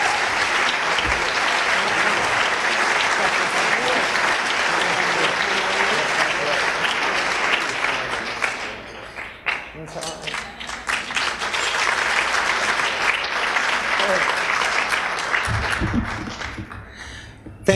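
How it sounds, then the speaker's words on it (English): Sustained applause from an audience at the 2003 National Book Awards ceremony, a dense steady clapping that dips briefly midway and then swells again, with no voices over it. "Thank you for the applause, and thank you for coming."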